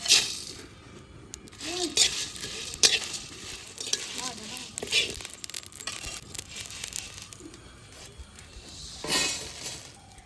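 Whole garam masala (cardamom, cinnamon, cloves, black pepper, bay leaf) dry-frying in a pan, with a continuous sizzle, repeated stirring scrapes and small clinks of spices, close up, while a person talks over it.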